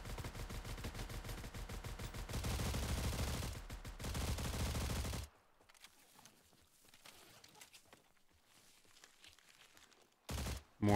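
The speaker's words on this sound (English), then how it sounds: "Apparently I'm still being shot." Rapid automatic gunfire rattles continuously in a video game, loud and sustained for several seconds, then stops abruptly before a brief final burst.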